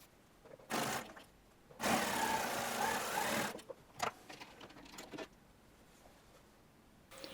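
Darts on a dress are stitched on a sewing machine in two bursts of close mechanical whirring, a short one and then a longer steady run, followed by a few quieter clicks and handling noises.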